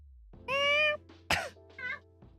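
A cat meows in a clear, drawn-out harmonic call, followed by a short sharp burst and a second, shorter meow, all close and alone without talk.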